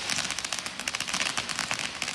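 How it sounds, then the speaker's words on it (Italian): Dense, rapid crackling from a run of fireworks and firecrackers set off around 11 pm in a residential quarter of Treviso, with continuous popping bursts at a steady moderate level and no voices. "accendono una serie di fuochi d'artificio mentre si filmano con i cellulari"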